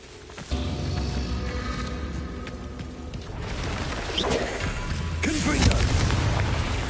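Confringo blasting curses in a Harry Potter video game go off as loud, booming explosions. A burst hits near the start, another lands around five seconds, and a heavy rumble runs between them. A voice is faintly audible beneath the blasts.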